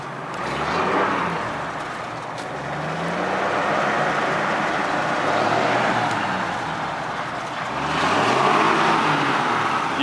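A 1958 Ford F100 pickup engine revs up and settles back repeatedly, loud and close, with no talking over it.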